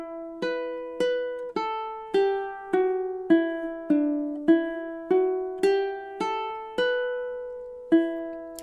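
A high G ukulele plays God Rest Ye Merry Gentlemen fingerstyle in campanella style, slow and clear. Each plucked note rings and overlaps the next, close and solo with no talk.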